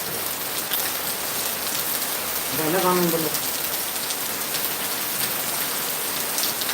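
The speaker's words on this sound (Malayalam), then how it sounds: "ഞങ്ങൾ മഴയൊക്കെ ആസ്വദിച്ചിരിക്കുകയാണ് കേട്ടോ നല്ല മഴയാണ്" Heavy rain pours steadily on surfaces in light wind, a dense even hiss throughout, with a brief low voice-like tone in the middle.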